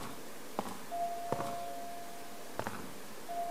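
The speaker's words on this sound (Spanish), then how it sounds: "Ah, que está llamando alguien al timbre." A doorbell chimes in the Ju-On horror video game, ringing in a few distinct tones with short pauses between presses, clear over a quiet room background.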